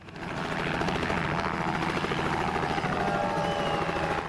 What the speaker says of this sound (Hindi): तभी वहां एक स्मार्ट ग्रे R-66 ट्रबाइन हेलीकॉप्टर नजर आया और सबकी निगाहें आसमान की ओर उठ गईं।